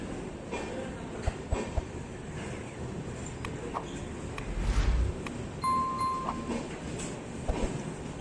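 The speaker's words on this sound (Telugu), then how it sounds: "సో ప్రజెంట్ అయితే ట్రైన్ స్టేషన్కి అయితే వచ్చేసింది" The Kagaznagar Express, running with LHB coaches, pulls into Kazipet station with a low rolling rumble and clatter of wheels, a chime ringing out, and voices murmuring on the platform.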